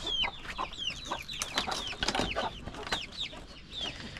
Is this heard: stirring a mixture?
no